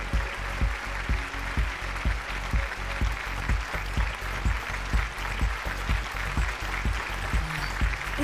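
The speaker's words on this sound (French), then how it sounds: "Applaudissez bien fort." Applause from an audience, a broad wash of clapping threaded with a regular, heavy thumping beat that repeats steadily throughout at moderate loudness.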